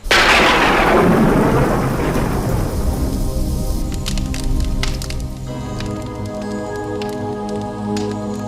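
A loud crack of thunder rolls and rumbles over steady heavy rain, with the downpour continuing as the thunder fades.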